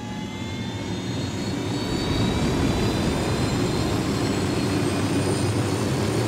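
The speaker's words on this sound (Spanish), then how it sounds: "Ahí está el helicóptero." A helicopter in the video game Ghost Recon Wildlands gives a loud, steady engine drone and rotor whir that builds slightly and holds, with no speech.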